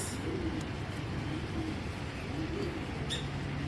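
Racing pigeons coo in a steady, low, rolling rhythm, several soft throaty calls repeating close by over constant background noise, with a brief higher chirp near the end.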